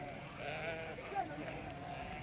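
Sheep bleating in a remote village where flocks are tended from dawn till dusk, a few wavering calls at moderate distance over steady outdoor background with faint voices.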